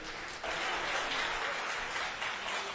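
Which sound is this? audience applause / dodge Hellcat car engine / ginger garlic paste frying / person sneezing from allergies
audience applause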